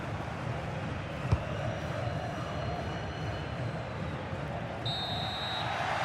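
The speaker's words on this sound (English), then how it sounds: "Full time then, the referee's whistle" A referee's full-time whistle blows in a football video game at a Chelsea match at Stamford Bridge, with a shrill sustained tone near the end over a steady, loud stadium crowd roar.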